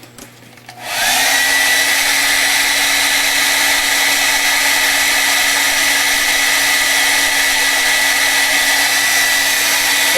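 A hair dryer blows on wet paint in an art journal, switching on after a second and then running as a loud, steady, close whir that holds without a break.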